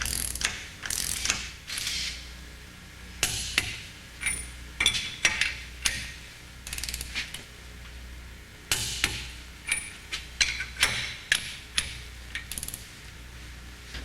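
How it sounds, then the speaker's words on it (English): A torque wrench tightens the tie rod nuts on a flow intensifier's end bells during a low pressure seal rebuild, giving repeated bursts of close metallic ratcheting clicks separated by short pauses, with no talk. "When the mating parts come together, torque each nut to 40 foot-pounds."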